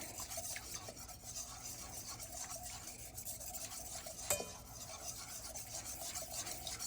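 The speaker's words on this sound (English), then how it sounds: "I'm just tapping a little bit in, then I stir it down, tap some in" Spoon stirring prebiotic fiber powder into a homemade L. reuteri yogurt mixture, a soft steady scraping and swishing close up, with a single brief clink partway through and no talking.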